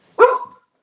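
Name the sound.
dog barking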